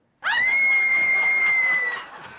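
A voice mimics a woman's high-pitched scream, one sustained shrill shriek that starts abruptly, holds steady for nearly two seconds, then fades.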